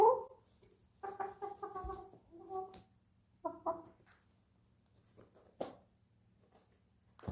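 Pet chickens, Braveheart among them, let out short clucks and little throaty calls in scattered bursts, quiet and close, with silent gaps between them.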